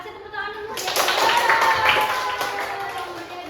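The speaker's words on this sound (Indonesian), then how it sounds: "Kasih tepuk tangan dulu ya." In a primary school classroom, a group of students gets a burst of clapping from their classmates: a quick, close patter of many hands that swells and then fades, with children's voices talking over it.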